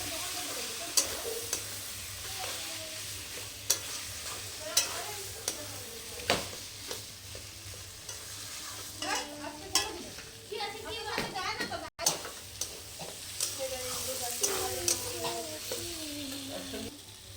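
Chili powder frying and being stirred in a pan, with a steady sizzle and scraping strokes of a spoon, close by, while people talk over it and children's voices are heard at times.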